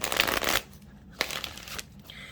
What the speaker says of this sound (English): let's get one more good shuffle in here